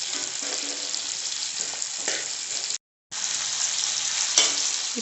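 Whole spices, cinnamon, fennel, cloves and cardamom, sizzle steadily in hot oil in a pan for a chicken curry, a loud continuous frying hiss with a brief break partway through and faint stirring scrapes.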